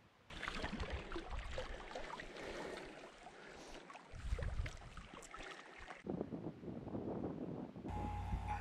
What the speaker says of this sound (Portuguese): A intensidade do vento aumentou.